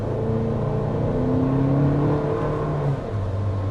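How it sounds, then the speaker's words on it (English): A 2026 Lexus TX 350 hybrid SUV pulls away from a stoplight, its engine note rising steadily in one continuous smooth acceleration heard from inside the cabin, with a slight shift in tone near the end. "I definitely can feel that ample torque when I take off from the stoplight there"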